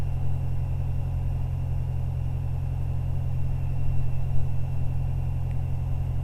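CubCrafters Carbon Cub SS light aircraft engine carrying low power on approach, a steady close droning rumble with strong low tones that holds level throughout, with no talk.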